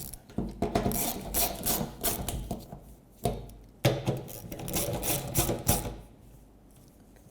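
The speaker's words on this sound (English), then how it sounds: "I'm going to go again in a circle this time just to make sure they're all tightened evenly" Bolts on a fuel tank assembly of a 2008-2010 Ford F-450 Super Duty are tightened with a hand tool, giving close metallic clicks and rattling bursts that pause briefly between turns.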